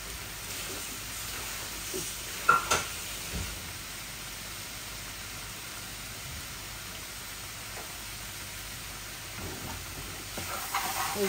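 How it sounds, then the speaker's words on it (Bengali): Tomatoes go into a hot frying pan and sizzle with a steady, close hiss, with a brief louder burst early on before the frying settles into an even crackle; no one talks. "আমি টমেটোগুলো এখনই দিয়ে দিচ্ছি"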